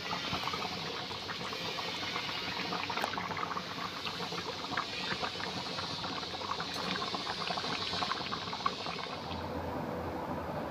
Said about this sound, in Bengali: মা এখন চিকেনটা রান্না করছে, চলো দেখাই তোমাদের চিকেনটা